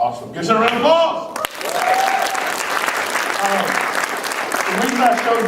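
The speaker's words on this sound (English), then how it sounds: "Give us a round of applause." A crowd at a student leadership conference claps steadily, a sustained wash of applause following a brief moment of voices at the start.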